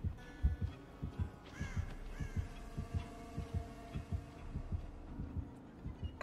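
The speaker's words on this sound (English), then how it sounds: "I'll probably chill here until I hear the heartbeats go away." The killer's heartbeat in the video game Dead by Daylight thumps in a steady, regular rhythm, fairly faint, with a couple of crow caws over it and no talk.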